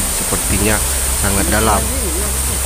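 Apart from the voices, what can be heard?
Dayang Rindu waterfall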